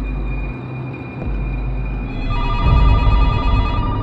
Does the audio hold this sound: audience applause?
no